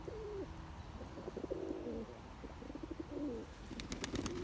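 Pigeons coo nearby in repeated soft, throaty phrases, with a few light rustles and chirps in the background.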